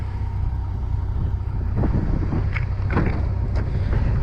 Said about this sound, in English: as you can hear, the wind is loud